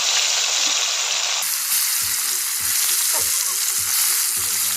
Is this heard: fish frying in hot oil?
yes